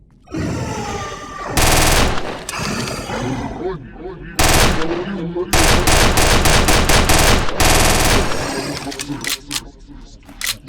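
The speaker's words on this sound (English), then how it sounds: "Gunshots are really loud." Loud, rapid bursts of automatic gunfire from the 2010 FPS Creator game Euthanasia, in several sharp volleys with brief pauses, over a background of game music and effects.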